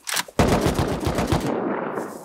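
Automatic gunfire in the survival game Rust, a brief shot followed by a rapid, loud burst of machine-gun fire that rattles on for about a second before tailing off into echo.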